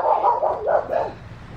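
Several dogs barking close by in a burst of four or five overlapping barks and yips, loud at first and tapering off, with no one talking over them.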